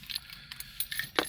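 Keys to a 2006 Honda S2000 AP2 jangle briefly and quietly close by, a short metallic rattle of a few seconds' handling with no talk over it.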